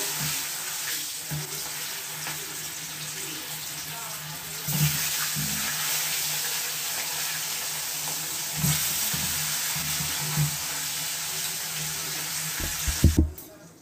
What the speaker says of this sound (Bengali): এবারে একটা একটা করে মাছগুলো ভেজে নেব